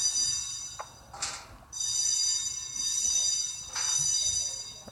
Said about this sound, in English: Oh gosh, fire alarm.